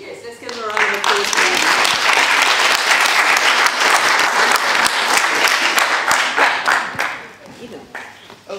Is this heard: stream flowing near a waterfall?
no